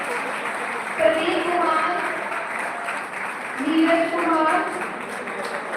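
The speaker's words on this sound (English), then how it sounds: "Please students, give them a huge round of applause." Students applaud at a B.Tech student orientation program, a sustained rush of clapping from a hall audience running beneath a man reading out names over the sound.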